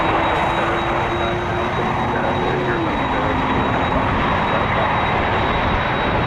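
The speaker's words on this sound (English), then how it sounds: "Cessna 208 Super Cargo Master coming in first." A Cessna 208 Super Cargomaster comes in to land at Toronto Pearson, a loud, steady propeller drone with a sustained tone that dips slightly in pitch midway, filling the clip without pause.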